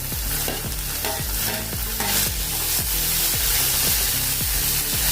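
Tomatoes frying in garlic-cumin paste and stirred, with a loud, dense sizzle and rhythmic scraping strokes, regular and close.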